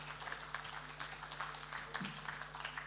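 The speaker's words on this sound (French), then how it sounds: "Merci Julie, qu'on applaudit encore une fois." An audience at a seminar workshop gives a soft, scattered round of applause, heard at a distance and fairly quiet, with a faint low hum behind it.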